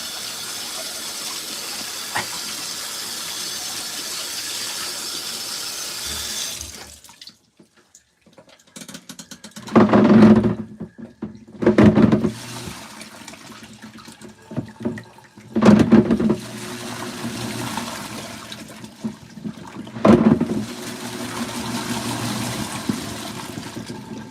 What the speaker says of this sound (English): I guess it's sensing it needs another rinse.